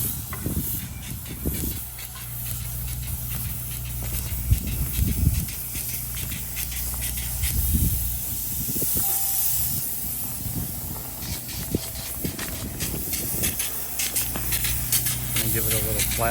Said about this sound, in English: He's gonna get a little test spray